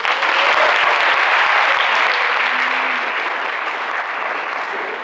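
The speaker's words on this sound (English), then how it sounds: "if you wouldn't mind giving a round of applause to State's Attorney John McCarthy" A high school audience gives a loud, dense round of applause for a state's attorney, steady clapping that holds for several seconds and eases slightly at the end.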